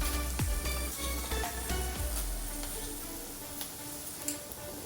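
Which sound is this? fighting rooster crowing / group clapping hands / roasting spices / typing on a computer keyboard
roasting spices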